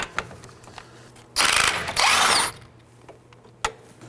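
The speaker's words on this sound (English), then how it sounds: "I'll be using an 18mm on an impact gun and a wrench." An impact gun with an 18mm socket rattles off a sway bar link nut on a 2018-2024 Chevrolet Equinox in one loud close burst of about a second, with a short pause in the middle, framed by faint clicks and a sharp knock.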